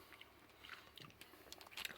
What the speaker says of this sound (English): still trying to chew it